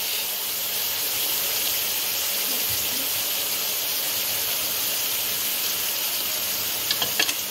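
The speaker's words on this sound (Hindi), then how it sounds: "बैंगनों को हम फ्राई कर लेंगे, इससे खाने में भी जायका आएगा।" Eggplant pieces frying in a pan of oil, a continuous bright hiss and sizzle with faint utensil clicks near the end, no voices.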